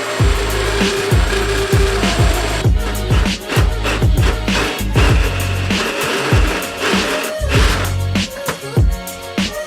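Drill boring a hole through the metal bulkhead of a BMW E30, loud and close with repeated grinding bursts and spin-downs as the bit bites and releases.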